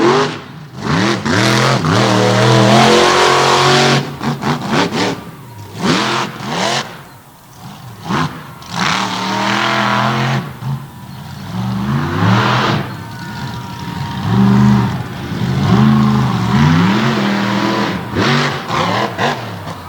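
A black and green monster truck at an all-star championship event roars loudly onto the track, its engine revving in repeated surging bursts up close, with no voices.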